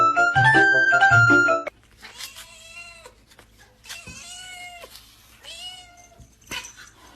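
A cat meows several times at a kitten, drawn-out harmonic cries rising and falling close by, after a loud burst of jingling music at the start.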